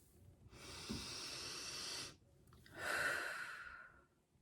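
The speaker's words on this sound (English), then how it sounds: "Take a deep breath." Two long, slow breaths, a steady airy inhale followed after a short pause by a fuller exhale, heard close and quiet in an otherwise silent room.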